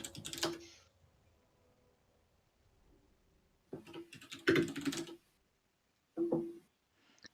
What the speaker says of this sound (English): Solgo, could you like mute your keyboard slightly?